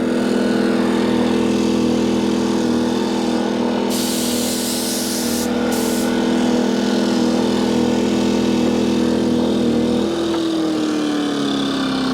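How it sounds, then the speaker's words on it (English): An air compressor runs beside a generator, a loud, steady mechanical drone with a constant hum that holds throughout, then dips in pitch near the end as the load eases. "The air compressor's at least twice as loud as the generator."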